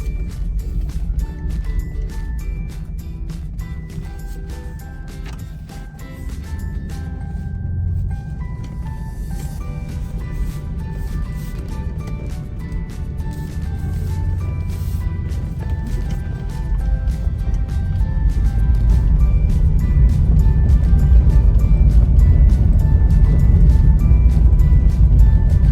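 A 2007 Jeep Grand Cherokee rolls over soft gravel, with a steady crunching under a continuous low engine and road rumble. The rumble grows louder toward the end, punctuated by faint chimes and clicks.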